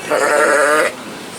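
A single sheep at a livestock expo gives one loud, close, wavering bleat lasting under a second, followed by quiet hall ambience.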